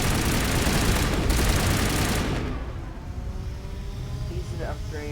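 Rapid sustained gunfire from Spectre weapons in Mass Effect Legendary Edition, a dense loud burst that cuts off after about two seconds, followed by quieter game ambience.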